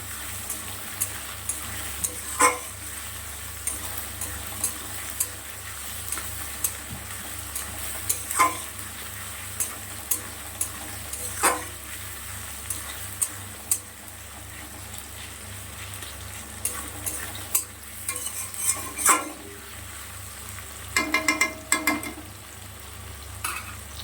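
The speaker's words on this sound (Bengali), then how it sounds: "পেঁয়াজ আর টমেটোটা প্রায় অনেকটাই ভাজা হয়ে গেছে" Chopped onion and tomato fry gently in a pan. A quiet, steady sizzle runs over a low hum, with occasional clacks and scrapes from stirring and a busier cluster of clinks near the end.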